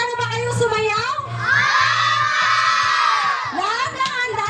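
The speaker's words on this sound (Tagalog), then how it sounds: "Palakpakan muna natin sila." An excited crowd of children and adults at a school event, shouting and cheering loudly in a sustained burst that swells and fades, with a voice speaking over the start and end.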